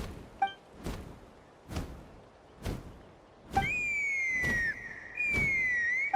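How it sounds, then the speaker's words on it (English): Within the game Genshin Impact, in Natlan's Flower-Feather Clan lands, a bright sustained whistle blows twice with a slight pitch glide, amid a few soft thuds and no talk. "That sounded like a whistle."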